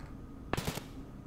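A single sharp sniper-style gunshot in a multiplayer shooter game, one loud crack with a short rattling tail, standing alone against quiet background noise.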